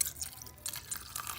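Water drips and trickles into a bowl of slime in a few soft, close splashes, with no talking.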